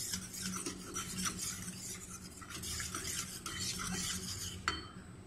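Gram flour batter mixed with chilli crush and salt being stirred in a bowl, soft repeated scraping and swishing strokes of a spoon, quiet and close, ending with a light clink.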